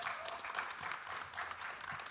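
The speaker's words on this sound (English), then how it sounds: "Can we give a round of applause" Round of applause for a panel at a Juneteenth Black Freedom Forum in Grand Rapids, soft and fairly distant, a brief steady patter of many hands.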